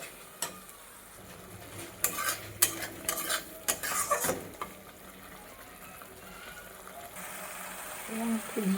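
Spice paste with Kashmiri chilli is stir-fried in oil for a cauliflower and egg dish, a soft sizzle punctuated by a burst of scraping, clattering spatula strokes against the pan, then quieter frying.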